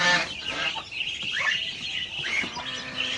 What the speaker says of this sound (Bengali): সবগুলো প্রিয় সাদা হাঁসের বাচ্চা।